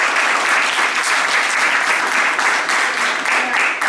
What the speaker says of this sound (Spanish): podríamos darle un aplauso